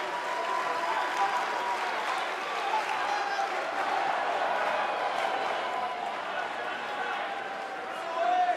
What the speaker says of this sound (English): this Philadelphia crowd is beyond boisterous tonight